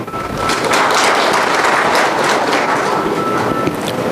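An audience at a traffic police meeting claps continuously in a dense, loud wash of applause that holds steady with no speech over it.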